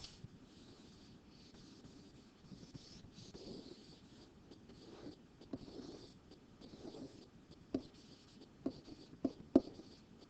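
A pen scratches steadily across paper while a chemistry table is written out by hand, a close, continuous scribbling with small taps and pauses, and no one speaking over it.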